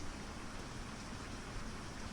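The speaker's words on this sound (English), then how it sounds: "The rain is constant." Steady rain falls on a roof overhead, a soft, even, unbroken patter of dense drops with no pauses or thunder.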